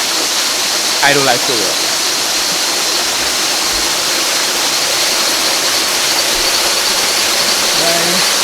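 A waterfall at Asa Wright Nature Centre rushes in a steady, loud, continuous roar close by, with a couple of brief voices speaking over it.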